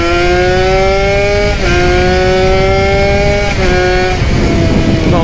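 A Kawasaki Ninja ZX150 two-stroke motorcycle engine revs hard and loud up close, holding a high buzzing whine that dips briefly between blips of the throttle.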